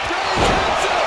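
Wrestling action in a WWE 2K video game broadcast, with a dense, roaring arena crowd filling the moment and a muffled impact of a slam buried in the noise, commentary voice faintly present.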